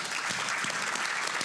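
Applause from the audience at an interparliamentary conference session, a brief burst of dense, bright clapping at steady loudness from a sizeable crowd.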